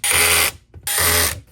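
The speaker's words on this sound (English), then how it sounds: "put the case back together" Two loud bursts of a cordless electric screwdriver driving screws into a Ryobi 40V 6Ah lithium battery pack's plastic case, each run about half a second with a short gap between, close up and with no talk.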